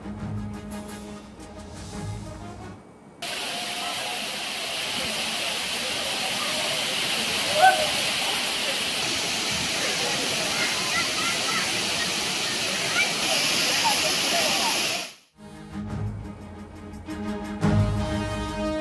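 Thirparappu waterfall in Kanyakumari district, crowded with tourists, roars with a steady, loud rush of falling water, while a voice talks briefly at the start and end.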